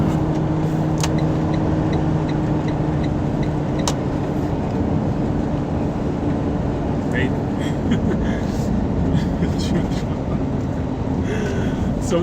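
Inside a truck cab out on the road, a low, constant engine and road rumble fills the whole stretch with steady broadband noise, loud and unbroken, while someone talks over it.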